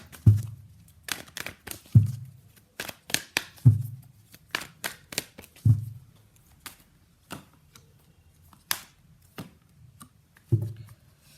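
Tarot cards being shuffled and pulled: crisp clicks and flicks come in loose clusters, each group opening with a soft low thump, close and quiet, with no talking.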